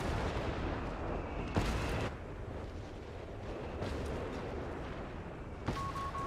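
Artillery barrage in a Company of Heroes match: a dense, continuous rumble of shell impacts and distant booming blasts, with several sharper explosions cutting through, loud throughout.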